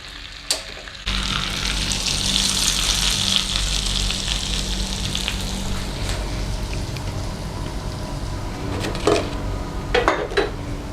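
Hot tadka tempering is poured into kewti dal in a pot, bursting into a loud, steady sizzle after a short, quiet start, with a few clinks of utensils near the end.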